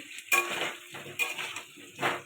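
Potato pieces frying in a pan for a chicken dish, with three distinct bursts of stirring scrape and sizzle against the pan at roughly regular intervals, close and clear, with a faint background hiss between them.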